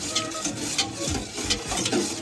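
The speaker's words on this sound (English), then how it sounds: "Whisk that in." A whisk beats vanilla into a Jamaican cornmeal pudding mix in a bowl, giving repeated scraping, swishing strokes in a steady rhythm, close and fairly quiet, with no talking over it.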